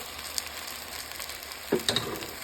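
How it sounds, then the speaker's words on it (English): Reheated broth poured into a hot sauté pan to deglaze it for lemon chicken orzo soup, giving a steady broad hiss with a sharper burst of sizzle near the end, no voices. "I'm going to just add a little bit of my reheated broth, and I'm going to deglaze my pan"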